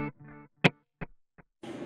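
Electric guitar through an MXR Carbon Copy Deluxe analog delay pedal: a few short plucked notes and chords with sparse gaps, followed by a louder, distorted strummed burst near the end, played close and alone.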